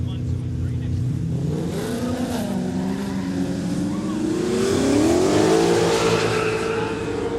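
A Holden Commodore drag car at a no-prep drag racing day in Kooralbyn Valley, its engine loud and close, revving steadily and climbing in pitch toward the end, with a voice faintly underneath.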